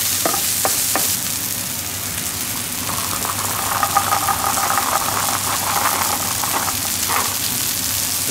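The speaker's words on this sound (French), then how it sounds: "Là, nous faisons cuire bien comme il faut les oignons et les carottes." Onions and carrots cooking in a pan make a continuous close sizzle, with a few sharp utensil knocks near the start and a busier crackling stretch in the middle; no one speaks.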